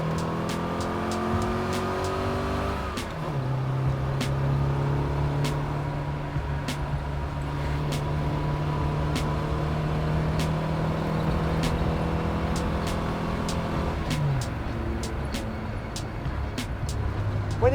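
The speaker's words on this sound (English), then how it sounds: "Driving a classic Mini on the road is like having a go-kart." A classic Mini driven on the road: its engine drones and revs up through the gears, with a clear shift drop partway and another rise and shift later, loud and close inside the car with faint ticking and no speech.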